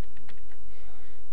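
Computer keyboard keys tapped while entering ActionScript code for a Flash movie clip button, a few quick soft clicks close by over a low steady hum.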